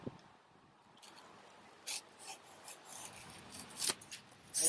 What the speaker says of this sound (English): So you take the knife, and we cut around there on both sides.